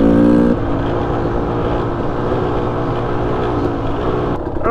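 A Beta Xtrainer 300 two-stroke dirt bike engine pulls steadily in third gear with a smooth, continuous drone, loud and close. A brief higher rev opens the run, and wind noise sits underneath.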